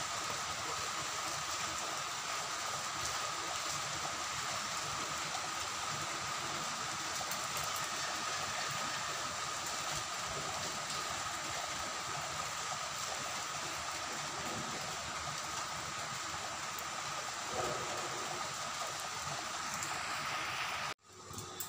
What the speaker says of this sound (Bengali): বৃষ্টি, কি বৃষ্টি!